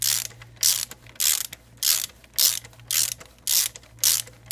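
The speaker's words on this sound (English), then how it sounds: "Now we'll tighten the belt, so we'll go the opposite way. So we'll turn this screw clockwise." Ratchet wrench clicking in repeated bursts while a screw is turned clockwise to tighten the timing belt tensioner on a Toyota RAV4 engine; eight evenly spaced, close, loud ratcheting strokes with no talk.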